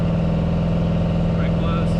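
A Ford F100 engine with Holley EFI runs at full throttle on a dyno, a loud, steady, close droning roar with a deep pulsing hum that holds constant throughout.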